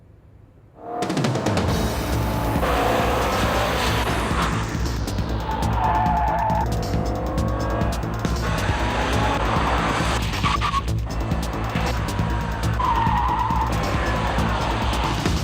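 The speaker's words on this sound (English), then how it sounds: "Essentially what we have today is a handling course for the new X-Type Jaguar" Jaguar X-Type car driven hard around a handling course, engine roaring steadily with repeated bursts of tire squeal and skidding, loud and continuous for the length of the run.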